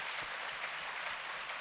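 Audience applause during a spiritual talk, a soft, steady patter of many hands clapping at a distance, continuous through the short moment.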